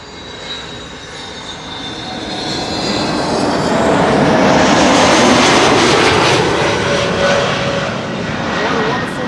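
A retro-liveried Transavia airliner at Amsterdam Schiphol Airport roars past, its broad engine rumble swelling from moderate to loud and holding, with a person talking over it.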